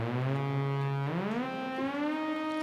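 A DRC synthesizer first-violins patch from a well-known song sustains one bright string-like tone, then glides smoothly up in pitch with portamento and holds the new note. Played alone, moderately quiet.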